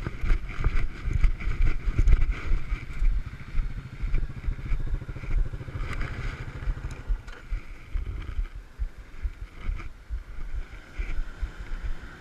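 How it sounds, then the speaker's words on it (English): A dirt bike engine idles and revs while stuck in a mud hole, a rough, throbbing motor close by with clattering and wind buffeting the microphone throughout. "You need to turn that bike off."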